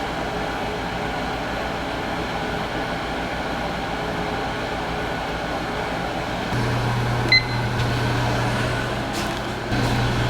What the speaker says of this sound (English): This is an old laboratory convection electric oven.